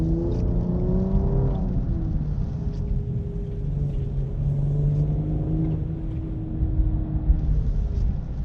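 Cadillac CT5-V sedan accelerating, a steady low engine rumble with rising and falling harmonic tones as the car pulls and shifts, heard from inside the cabin at moderate, constant loudness with no talking.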